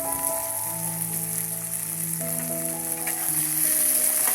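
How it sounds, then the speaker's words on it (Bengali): Onions go into hot oil left from frying potatoes and sizzle with a steady, loud hiss, while sustained tonal music plays over it. "ওই তেলে আমি পেঁয়াজটা দিয়ে দিলাম।"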